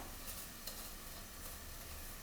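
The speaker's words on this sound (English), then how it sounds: "Just moving it around with a spoon to help coat it in the olive oil and toast it." Millet seeds toasting in olive oil in a pan, nudged around with a spoon, giving a faint, steady sizzle with soft scraping and light stirring clicks throughout.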